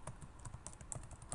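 Soft keystrokes on a computer keyboard tap out in a quick, irregular run, faint and close.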